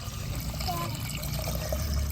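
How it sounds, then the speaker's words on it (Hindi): Water is poured into a pot over a fire to start making tea, a faint, steady trickling pour running throughout under a low background rumble. "पहले इसमें पानी ऐड कर रहे हैं।"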